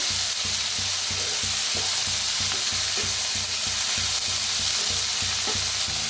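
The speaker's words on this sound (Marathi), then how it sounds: "आता ह्याच्यात टाका शेंगा आपण भाजून घेतल्या होत्या, मुळ्याच्या शेंगा. तर मिक्स करूया." Roasted radish pods are stirred in a hot pan, with a steady sizzle and frying hiss under rhythmic scraping strokes of the spoon.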